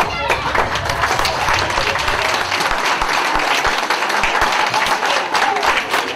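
An audience in a gathering for two priests claps steadily for several seconds, a dense, even applause close to the microphone, with a voice briefly heard over it.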